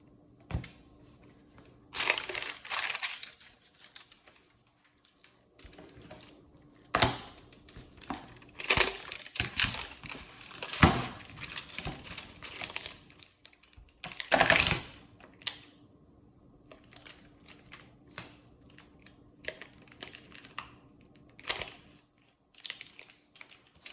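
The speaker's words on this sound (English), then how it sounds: "we're going to apply it with a butyl tape gun here" Butyl tape being laid down with a butyl tape gun during joist sealing, heard as irregular close crunching clicks and taps that come in scattered bursts over steady quiet.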